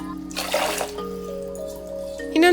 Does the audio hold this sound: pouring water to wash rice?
yes